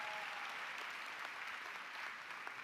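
Graduates and guests at a Bowie State University spring commencement give sustained applause, a steady, even wash of many hands clapping in a large space, fairly faint and distant, with no break throughout.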